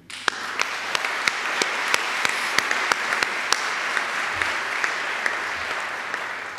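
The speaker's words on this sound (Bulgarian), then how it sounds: "Смятам, че те заслужават вашите аплодисменти." Steady applause from an audience honouring the artists at an art exhibition and auction, a dense continuous patter of clapping with a few sharper single claps standing out, holding evenly to the end.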